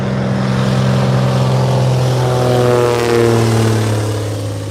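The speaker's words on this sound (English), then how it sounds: "Do you guys want me to duck so you can see the planes take off?" Airplanes taking off near an airport, a loud steady engine roar with layered droning tones that swells slightly midway, close and continuous with no talk.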